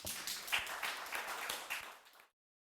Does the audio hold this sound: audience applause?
yes